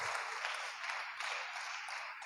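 A congregation clapping during a church service, a brief round of moderate applause from a crowd in a hall, steady and fairly distant, fading slightly at the end.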